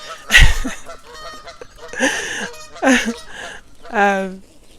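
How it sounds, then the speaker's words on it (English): Ducks honking and quacking loudly in several harsh bursts spread across a few seconds, close by, with a voice speaking between the calls. "the ducks are wiling out right now"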